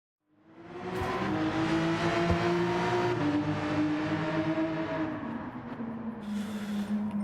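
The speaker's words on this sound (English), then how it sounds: "Just want to see how the Porsche drives on this combo." A Porsche engine in the racing game Gran Turismo 7 rises from silence into a sustained, steady drone with shifting pitch as it accelerates and drives, loud and close, with a brief change near the end.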